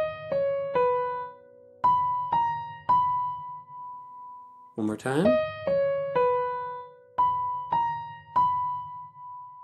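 A short ear-training melody in a major key moves mi, re, do up an octave as clear, separate plucked tones. It plays twice, with a brief spoken phrase between the two runs.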